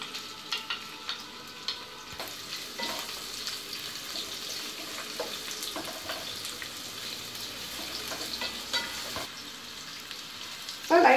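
Sliced onion fries in hot oil with salt for capsicum rice, making a moderate steady sizzle with intermittent stirring clicks and scrapes, and a louder clatter at the very end.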